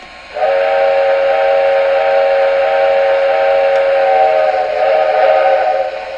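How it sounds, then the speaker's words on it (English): Steam whistle of a 2002 MTH 4-4-0 General Haupt Proto 2 model train, one long steady chime-like blast lasting about six seconds, loud and close with no talking. "Really cool sounding whistle."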